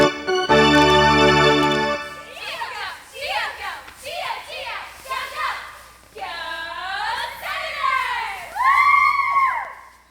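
A crowd at a baseball game cheers and shouts. A sustained tone opens, then come repeated loud bursts of yelling, whoops and high excited voices that rise and fall in waves.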